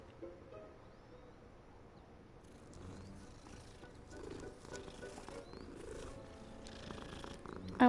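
A keycat purrs in a wizard video game, a soft low continuous rumble that swells a little toward the end, with faint bird-like coos behind it and no talk.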